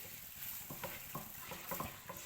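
Besan barfi mixture of gram flour being stirred in a pan on a low flame, a soft continuous sizzle broken by repeated spoon scrapes and taps at an uneven pace, quiet and close, with no voices.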